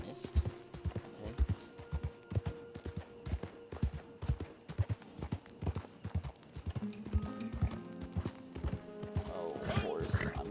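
Horse hooves clip-clopping in the Red Dead Redemption 2 Online beta, a steady galloping rhythm of sharp hoofbeats running throughout, with game music tones and a player talking over them.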